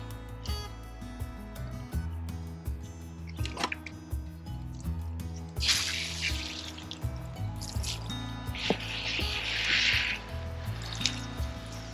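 Plants in a five-tier GreenStalk vertical planter are watered in: water trickles and drips into the soil, with splashy bursts of pouring and a steady, close, fairly quiet patter.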